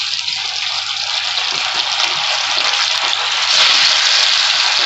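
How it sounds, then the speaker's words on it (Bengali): Pieces of silver fish from a large fish frying in hot oil for a curry, giving a loud, steady, broadband sizzle that swells slightly toward the end, with no voices. "তেলটা গরম হয়ে গেছে, আমি এবার মাছগুলো দিয়ে দিচ্ছি।"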